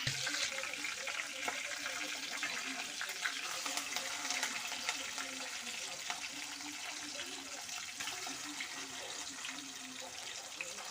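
Marinated chicken fries in hot oil with curry leaves and coriander, a quiet, continuous hiss and crackle heard from close by, with a voice speaking faintly underneath.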